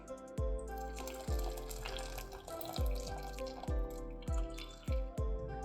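Water running from a tap into a bowl holding ice cubes, a steady splashing stream punctuated by about seven sharp knocks and clinks, close and fairly loud with no talking.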